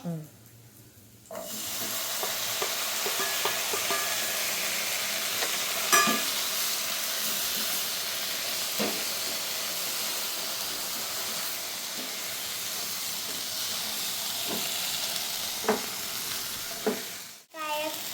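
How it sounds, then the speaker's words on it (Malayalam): Chili powder being stirred into a hot frying pan, with a steady close sizzle and hiss throughout and repeated scraping strokes of the spoon against the pan, no talk. "പൊടി ഇട്ടിട്ട് നമുക്ക് നന്നായി ഇളക്കുക"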